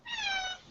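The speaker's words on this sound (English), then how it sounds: "Did I hear a kitty cat?" A pet cat, a young female, lets out a single clear meow lasting just over half a second, close and fairly loud, with nothing else around it.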